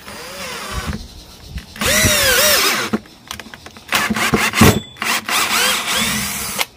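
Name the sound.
cordless impact drill boring into very hard wood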